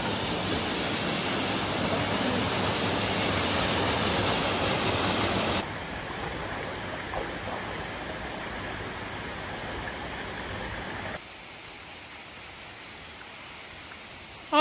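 A waterfall in Italy early in the morning gives a steady, loud broadband rush of falling water, continuous throughout, with the level dropping abruptly twice as if cut between spots.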